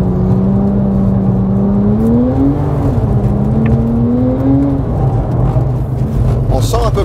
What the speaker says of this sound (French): On sent un peu plus, tu vois, là, l'inertie du moteur